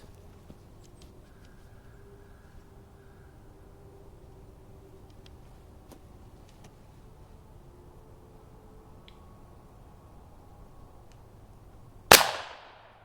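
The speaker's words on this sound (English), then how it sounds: "I'm just going to fire 1 into the ground." An AEA Defender .357 air rifle firing a single pellet into the ground, one sharp, loud crack near the end after a long quiet stretch, close by.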